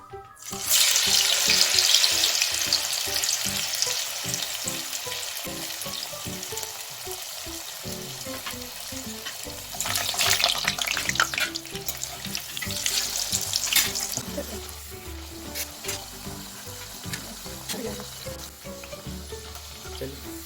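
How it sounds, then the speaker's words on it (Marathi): Flattened palak (spinach) vada patties fry in hot oil with a dense, continuous sizzle that swells loudly at the start and again midway, with occasional kitchen clatter mixed in. "आता आपण तळायला घेऊया"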